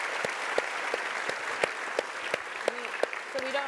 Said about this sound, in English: So we should clap for that.